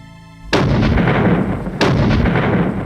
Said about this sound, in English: As Nelson attacked Calvi, a vigorous artillery duel was underway.